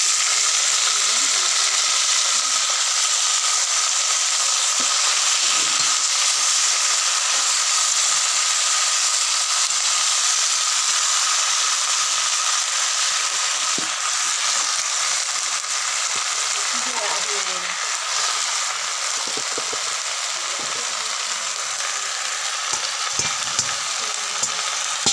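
Leafy greens (shak) fry in a hot pan with a steady, loud, continuous sizzle and hiss, broken by occasional soft stirring scrapes.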